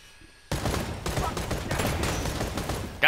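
Dense, continuous gunfire from the video game Predator: Hunting Grounds erupts suddenly and keeps hammering loudly for a few seconds.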